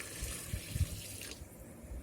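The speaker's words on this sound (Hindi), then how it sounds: "अब मैं इसके अंदर डालूंगी तकरीबन 1 मग्गा पानी।" A mug of water pours into a pot of bottle gourd and meat curry, a steady splashing gush close by that tapers off, with no talking.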